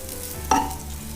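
Sticky rice fries in a pan with salt added, soft sizzling under a single brief scrape of a spoon stirring it, close and fairly quiet.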